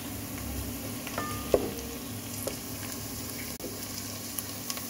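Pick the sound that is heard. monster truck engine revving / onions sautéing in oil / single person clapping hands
onions sautéing in oil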